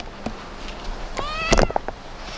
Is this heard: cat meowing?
yes